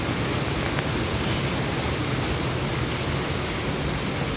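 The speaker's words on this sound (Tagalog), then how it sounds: "Agos ng tubig." A forest waterfall pours without pause, a dense, loud hiss of falling water close by, with no talk.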